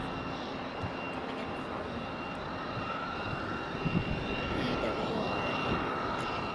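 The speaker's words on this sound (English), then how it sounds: "We just had one land as well. United Express 3603 E175" A United Express Embraer E175 regional jet comes in to land, its steady broadband engine roar swelling slightly toward the end, with a voice talking over it.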